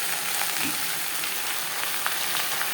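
Jute leaves sizzle and crackle steadily in hot oil with garlic, a dense hissing fry with occasional small pops, close and fairly loud.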